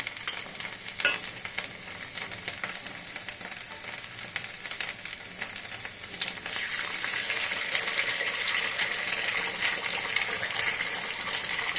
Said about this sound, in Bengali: এখন আমি ডিমটাকে ফাটিয়ে এখানে ছেড়ে দিব।